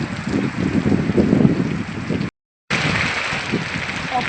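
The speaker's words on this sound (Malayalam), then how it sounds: "മഴ നന്നായിട്ട് നല്ല പുകഞ്ഞിലുള്ള മഞ്ഞ് പോലത്തെ മഴ കേട്ടോ" Heavy rain with wind in Palakkad, Kerala hisses and patters nearby in a steady wash, broken by a brief moment of total silence midway before resuming.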